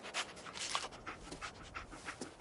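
A dog companion pants in the video game Fallout 4, with quick rhythmic breathy bursts that sound close and steady and carry no speech.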